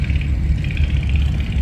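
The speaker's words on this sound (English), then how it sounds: "Little 4-cylinder flathead engine." The little 4-cylinder flathead engine of an antique tractor idles at a county fair tractor show, a steady, low, rumbling throb heard close by with no talking.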